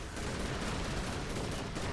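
A gun in the video game Chaos Exploder fires as a dense, unbroken stream of rapid shots, a moderately loud, constant crackling barrage.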